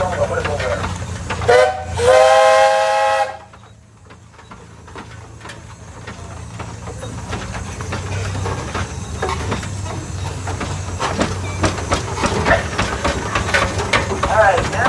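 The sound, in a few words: steam traction engine whistle toot at tractor show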